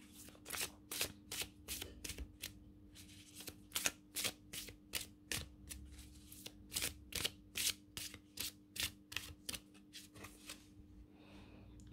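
Tarot cards are shuffled and drawn in a steady run of crisp, riffling flutters. Each burst is sharp and close, with brief pauses between them, and no speech.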